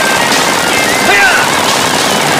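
A Spider-Man toy gun fires a continuous, loud electronic rattle of rapid gunshot effects, dense and unbroken for the whole stretch, with a voice faintly underneath.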